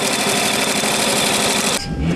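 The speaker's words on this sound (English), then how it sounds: "this is the first project in a while we had to break out the sewing machine" A sewing machine runs continuously at high speed with a dense, rapid mechanical chatter, close and loud, stopping abruptly near the end.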